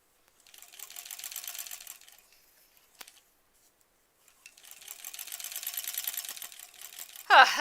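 A sewing machine stitches quilt sashing for a granny squares quilt in two bursts of steady rapid whirring, pausing in between with a faint click, and ends on a short loud sweep.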